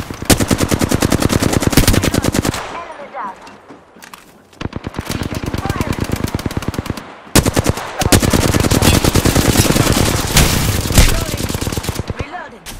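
Rapid automatic gunfire in the video game Apex Legends comes in loud, dense bursts separated by short pauses, with heavy repeated fire through most of the stretch.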